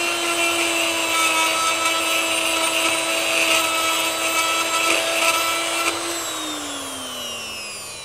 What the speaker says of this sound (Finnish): Tässä on nykyajan hiomapaperia, voisi sanoa.